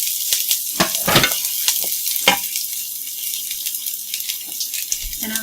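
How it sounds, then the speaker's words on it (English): Chopped shallot fries in a pan as it is mixed, with a steady sizzle and several sharp scraping and clattering strokes of the utensil, close by. "So first off, we'll add in our chopped shallot that we put in earlier."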